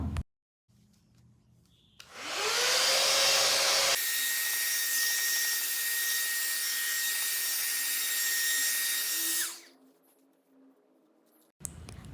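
Loud, steady whooshing roar of a 5-in-1 hair styler blowing air at close range, starting with a rising whine, holding for several seconds, then cutting off to quiet.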